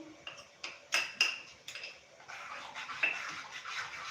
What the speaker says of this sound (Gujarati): એને આપણે મિક્સ કરી લેશું